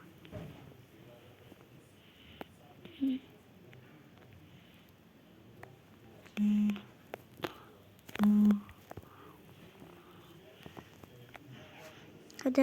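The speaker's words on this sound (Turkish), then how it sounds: "böyle titriyor telefonum" A phone buzzes in a few short low-pitched bursts, the longer ones about half a second, amid quiet background noise and occasional talk.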